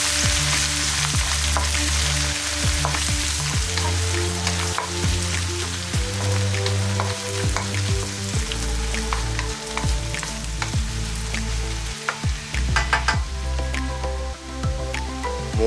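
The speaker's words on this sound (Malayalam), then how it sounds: "നന്നായി വഴറ്റി കൊടുക്കുക" Chopped ginger, garlic and coconut pieces sauté in hot oil in a pan for a Kerala-style beef fry, a steady close sizzle broken by the scrape and clatter of stirring.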